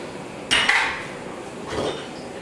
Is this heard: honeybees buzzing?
no